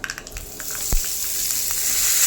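Hot oil crackles and sizzles as a tempering is fried for a chutney, with a soft hiss that builds over a couple of seconds and a single knock near the start.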